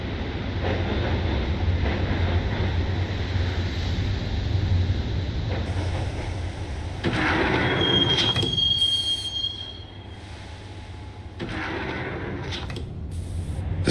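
A subway train rides along in the Max Payne video game, wheels squealing with a high metallic whine over a steady low rumble and rattle of the carriage, which drops quieter near the end.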